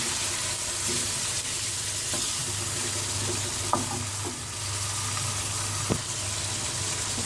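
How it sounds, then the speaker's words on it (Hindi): Chicken sizzles steadily in a hot pan for achari chicken, a continuous frying hiss with low bubbling and a few soft stirring knocks, with no talking. "इस तरह इसको भून लें।"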